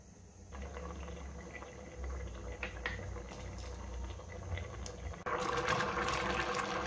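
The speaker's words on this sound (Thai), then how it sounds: "อันนี้ป้าเปิดไฟกลางเคี่ยวไปเรื่อยๆนะคะ" Pineapple mussel curry simmering on medium heat in a pot, a steady low bubbling and liquid churn that grows louder and brighter near the end, with no talking.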